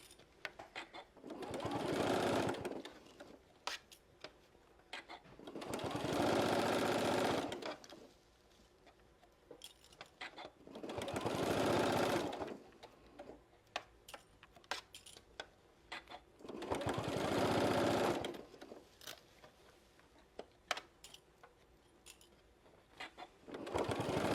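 A sewing machine stitches across a seam in four steady bursts, each a few seconds long, separated by quieter pauses with small clicks and handling noises.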